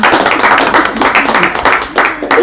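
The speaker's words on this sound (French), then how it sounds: "Applaudissons pour le Seigneur." A congregation at a church service claps together in a steady, dense burst, loud and close, with a rhythmic pulse to the hand claps and voices mixed in.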